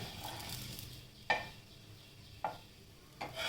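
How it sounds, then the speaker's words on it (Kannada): Bread slices roasting in a little oil in a pan for bread chaat, a faint soft sizzle with three sharp clicks of a spatula against the pan spaced about a second apart, no voices. "ಎಣ್ಣೆ ಹಾಕಿ ಬ್ರೆಡ್ಡು ಆವಾಗ ಗರ್ಗರಿ ಆಗುತ್ತೆ ಆ ಥರ ಅದನ್ನು ಎರಡೂ ಕಡೆ ಒಂದು ಸ್ವಲ್ಪ ರೋಸ್ಟ್ ಆಗೋ ಹಾಗೆ ಮಾಡ್ಕೊಳ್ಳಿ"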